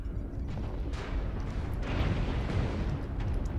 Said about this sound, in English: Some missiles.